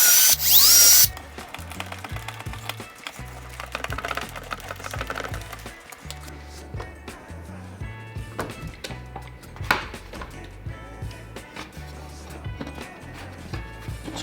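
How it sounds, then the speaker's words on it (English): A power drill drives screws into an Ikea Alex drawer, short bursts of motor whir stopping and starting in a stuttering rhythm, with clicks and wood creaks between them, close and fairly loud. "we're gonna get the rest of these screws in"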